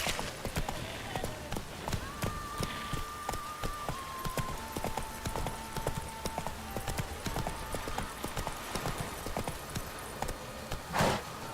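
A horse's hooves clip-clop in The Witcher 3 video game, a steady, rhythmic run of distinct hoof strikes over about eleven seconds, with faint background game sounds underneath.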